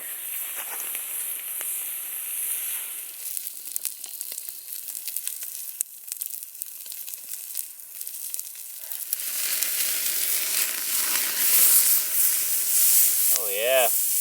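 Steak sizzling on a very hot grill over a campfire while camping on an island, a steady hiss that fades in the middle and then swells again, with a short whistling sound near the end.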